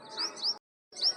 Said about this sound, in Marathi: झाडांवर पक्षी देखील किलबिल करतायत